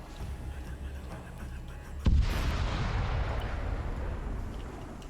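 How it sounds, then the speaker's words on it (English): Explosions in a Mandalorian-themed video game campaign: a single sudden boom hits partway through, followed by a sustained rumbling, crackling tail that stays loud to the end over a low background of game noise. "And any moment now, we're gonna start seeing some explosions."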